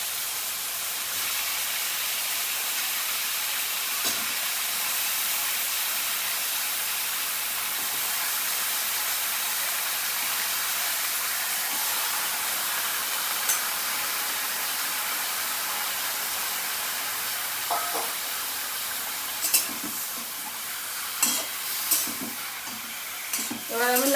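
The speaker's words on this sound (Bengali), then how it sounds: "এবার আমি লাউটাকে ভালো করে কষিয়ে নেব।" Salted bottle gourd frying in a pan after prawns, a broad steady hiss of sizzling oil filling the scene, with a few sharper stirring knocks toward the end, no voices.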